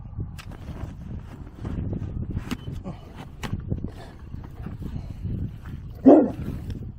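A dog barks a few times at a distance over steady outdoor background noise, with one sharper, louder bark near the end.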